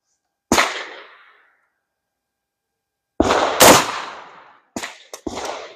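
A Mossberg Maverick shotgun fires Fiocchi 00 buckshot in sharp, loud blasts, several shots spaced across a few seconds, each ringing out briefly at an outdoor range.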